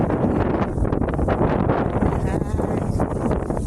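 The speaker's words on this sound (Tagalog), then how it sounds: "Medyo mahangin po." Steady, loud wind buffeting the microphone, a constant roaring rumble throughout with no breaks.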